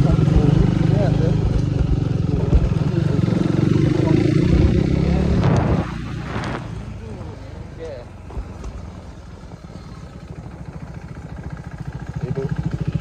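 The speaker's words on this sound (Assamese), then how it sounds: "ইঞ্জিনৰ চাউণ্ডটো বহুত ধুনীয়া আছে" A modified KTM RC 390 BS4 motorcycle engine runs close by with a loud, steady rumble that drops sharply in level around the midpoint, then settles into a quieter, continuous drone that slowly builds again.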